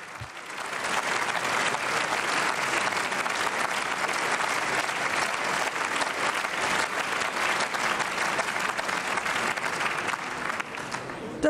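Sustained, dense applause fills the German Bundestag chamber during a plenary debate on amending the Basic Law on party financing, steady and loud for about ten seconds before easing slightly at the end.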